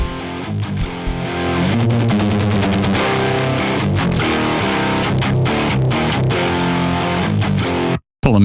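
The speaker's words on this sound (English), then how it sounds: "I'm going to use my favorite distortion plugin after the amp. So we're going to use Decapitator" An electric guitar played through an amp with a Decapitator distortion plugin after it churns out loud, heavily saturated chugging riffs with a dense, gritty tone, then cuts out sharply near the end before one last hit.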